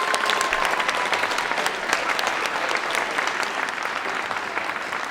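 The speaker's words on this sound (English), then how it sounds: "One more big round of applause for all of these talented kids." An audience at a middle school winter concert claps loudly and steadily for a school band, with a dense, sustained round of applause that slowly tapers.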